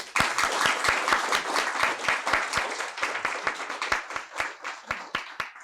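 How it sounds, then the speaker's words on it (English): Applause from an audience at a fireside chat, with a few close, sharp hand claps standing out in a regular rhythm over a softer background of clapping that continues for several seconds. "So a big applause to them, first of all"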